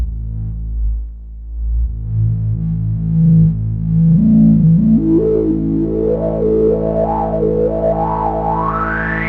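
A gritty Solar 50 synth tone sweeps upward as its filter opens, growling and resonant, rising in pitch with wobbling squelches over about nine seconds.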